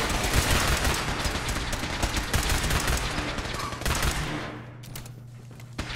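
Sustained rapid gunfire from a weapon in Fallout 4, loud and dense for several seconds before thinning into a few scattered shots at the end, with no talking.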